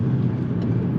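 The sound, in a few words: MK5 Golf GTI exhaust when accelerating hard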